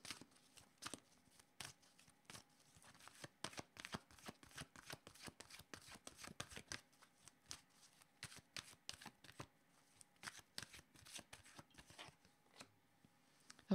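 Oracle cards shuffled by hand in a steady run of quick, crisp riffling flicks, close and fairly quiet, with no talking.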